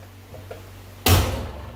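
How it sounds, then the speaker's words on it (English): A Ford Foxbody Mustang car door pops open with one sharp, close latch clack and a brief rattling thud that fades out after a quiet moment. "We'll lock the door from the inside. Just pop it open."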